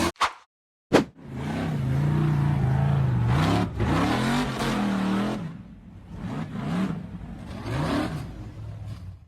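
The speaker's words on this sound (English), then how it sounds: "The orange and black buggy accelerated hard up the steep sand hill" An orange and black off-road buggy's engine revs hard as it accelerates up a steep sand hill, with a loud, sustained, wavering roar and pitch swings lasting several seconds after a brief sharp start.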